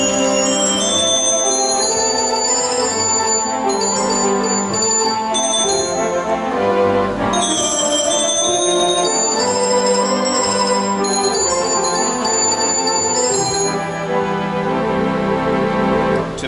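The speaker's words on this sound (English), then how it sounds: "Here's the orchestral bells up here." Orchestral bells on a theatre organ play a melody of bright, sustained metallic tones, long ringing notes overlapping one after another, loud and clear with no voices.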